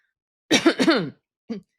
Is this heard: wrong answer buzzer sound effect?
no